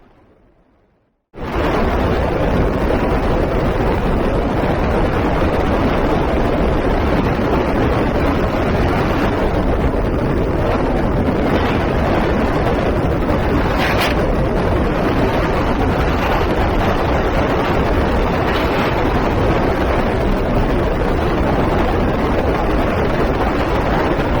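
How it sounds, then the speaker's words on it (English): Cockpit of a single-engine small aeroplane on approach to Manchester Barton Airfield, a loud steady engine and wind roar filling the cabin after a brief quiet start. "not exactly comfortable flying in a single engine small aeroplane over towns like this"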